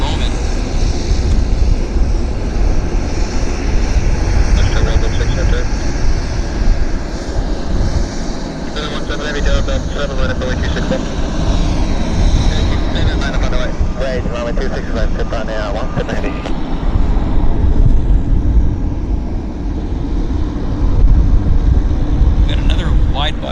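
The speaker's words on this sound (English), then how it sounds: "We've got another wide-body aircraft coming out this way, and it is the Air Canada flight." An Air Canada wide-body jet departing Vancouver airport, its engines a loud, sustained roar filling the whole stretch with gradual swells, while someone talks over it intermittently.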